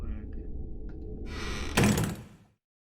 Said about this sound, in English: I'm gonna go ahead and close the doors.